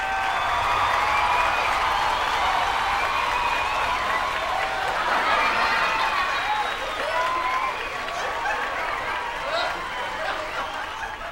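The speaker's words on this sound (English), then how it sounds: "Let's give him a round of applause." A crowd at a craft beer contest applauds a contestant with dense, loud, sustained clapping that lasts the whole stretch, mixed with cheering and voices.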